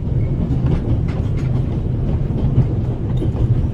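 Train rumbling along the rails in The Raven Remastered video game, a steady low clatter and roar that fills the whole span at constant loudness, with no voices.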